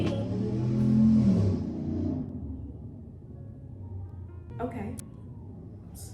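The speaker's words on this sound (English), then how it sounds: "a little truck gonna drive by in the middle of my video" A small truck rumbles past outdoors, a low engine drone swelling then fading over several seconds, with a brief spoken word near the end.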